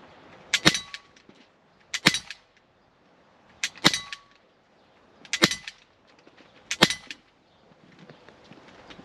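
A Walther P99 DAO 6mm airsoft replica pistol fires five sharp, snappy shots at roughly one-and-a-half-second intervals, each a crisp crack with brief mechanical clatter, close and clear against a quiet background.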